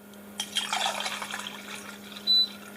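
Warm water is poured into a container, a brief splashing trickle close by that starts sharply and tapers off, followed by a short bright tone, with no voices.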